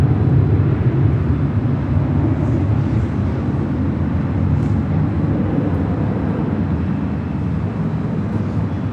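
Delta Airlines Boeing 767-300, flight 773 from JFK, arriving at Los Angeles LAX: a steady, loud low jet engine roar rumbling continuously without a break.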